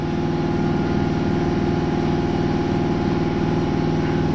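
Nissan March 1.2 engine with remapped ECU and 8000 RPM limiter, held at high revs: a steady, loud, continuous engine drone with a buzzing harmonic tone and no breaks.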